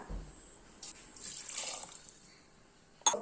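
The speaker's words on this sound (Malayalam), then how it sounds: "നാല് ഗ്ലാസ് വെള്ളം ഒഴിച്ചു കൊടുക്കണം" Water is poured into a pot of vegetable biryani, a soft, fairly quiet splashing stream that swells briefly before tapering off, ending with a small clink.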